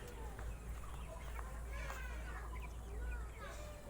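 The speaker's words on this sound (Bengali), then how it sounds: "অনেক মুরগি।" A flock of chickens clucks and chatters continuously, faint and at a distance, over a low steady rumble, with voices mixed in.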